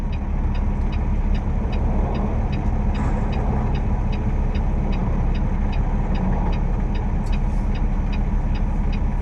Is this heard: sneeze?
no